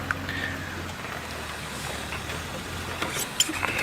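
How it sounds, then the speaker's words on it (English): A safari vehicle's engine idles steadily on a game drive in the African bush at sunset, a constant low rumble mixed with broad outdoor noise and no talking. "let the car run for a few seconds before you move. Let them get used to that noise."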